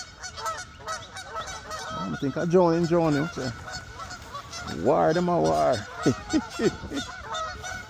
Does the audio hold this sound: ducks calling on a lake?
yes